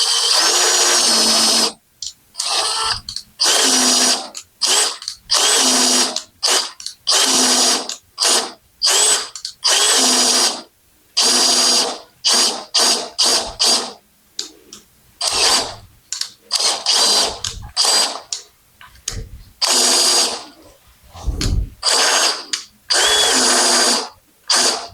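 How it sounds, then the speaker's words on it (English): A power drill taps threads into the steel frame of a 1976 Jeep CJ-5, running slowly in bursts of whirring and ratcheting that stop and start repeatedly, loud and close with no talk. "Kind of do it the old power tap method."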